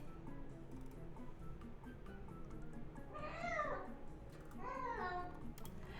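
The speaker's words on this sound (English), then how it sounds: "seriously loud and scary, like this cat is so loud" A pet cat screams loudly in the middle of the night, two drawn-out, rising-and-falling wails heard over a low steady background hum.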